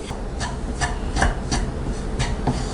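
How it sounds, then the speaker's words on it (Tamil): Gram flour dry roasting in a pan for Mysore pak, stirred with a spoon to give soft repeated scraping rubs in a steady rhythm, close and moderately quiet. "சிம்மில் வச்சுட்டு நல்லா வறுத்துக்கலாம்"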